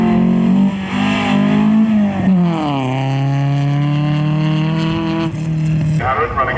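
A hillclimb race car with a front-mounted 2-litre engine revs hard through its gears, the pitch climbing, dropping at a shift and climbing again, loud and close, with a commentator talking over it.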